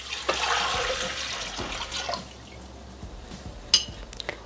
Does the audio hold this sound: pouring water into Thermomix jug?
yes